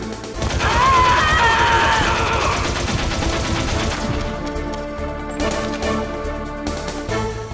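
Gunfire in a 1998 Metal Gear Solid game cutscene: a loud burst of rapid shots and crashing impacts at the start, then quieter repeated mechanical clatter under a lingering musical tone.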